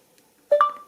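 Short electronic beep from the voice command button on a VoxiOne device, a quick two-tone chirp stepping upward in pitch, clear and close, fading within half a second after near silence.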